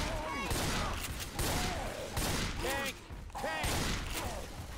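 Rapid gunfire in Left 4 Dead 2 cracks out in dense, repeated bursts with brief pauses, mixed with in-game noise and voices talking over it.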